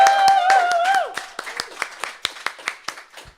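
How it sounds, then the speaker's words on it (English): A small group claps at a living-room live performance, heard after a sustained sung or spoken tone fades. Several sharp, distinct claps follow at an irregular pace, close and clear. "Round of applause for the sound guy."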